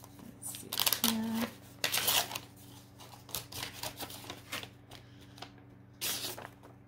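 A card slides out of an opened envelope in bursts of papery scraping and rustling, close and moderately loud, with a steady low hum underneath and a brief tonal beep partway through.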